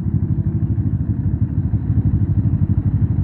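A motorcycle engine runs near the listener with a steady, fast low-pitched pulsing throb, like idling or a slow ride, and holds an even loudness throughout.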